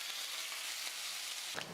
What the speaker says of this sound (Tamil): நான் ஸ்டவ் ஆஃப் பண்ணிவிட்டு கடைசியாக கருவேப்பிலை கொஞ்சம் சேர்த்துக்கிறேன்.